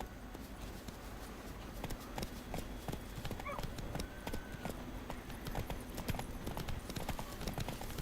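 Roach the horse's hooves clip-clop steadily in The Witcher 3, a continuous run of close, crisp hoofbeats over a low ambient bed of the game world, with no talk over them.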